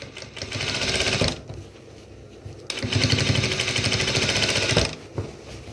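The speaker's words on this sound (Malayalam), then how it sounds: "ആദ്യം നമുക്ക് നെക്കൊന്ന് സ്റ്റിച്ച് ചെയ്തെടുക്കാം" A sewing machine stitches the back neck of a crop top in two steady, loud runs of rapid mechanical clatter, separated by a brief pause.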